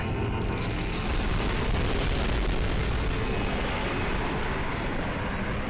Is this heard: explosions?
yes